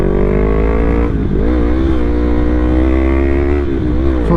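Yamaha MT03 motorcycle engine droning steadily in third gear on a rough, twisty road, loud and close with smooth rises and dips in revs, alone with no talk.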